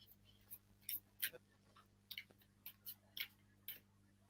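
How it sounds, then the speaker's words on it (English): A deck of tarot cards being shuffled by hand, giving a series of soft, brief riffling bursts spaced irregularly, quiet and close, with a faint steady hum underneath. "I'm going to shuffle the deck for you"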